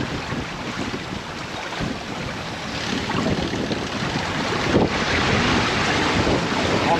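Strong 22-knot wind roars across a sailboat at sea off northern Sicily, a dense steady rush with buffeting on the microphone and the wash of waves beneath, growing louder partway through.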